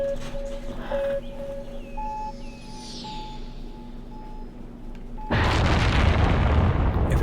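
A rocket explodes during launch in Cities: Skylines: a steady game hum with soft tonal beeps, then a sudden loud, roaring blast that holds as a dense rumble to the end.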